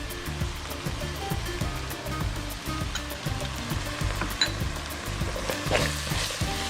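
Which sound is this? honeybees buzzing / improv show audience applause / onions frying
onions frying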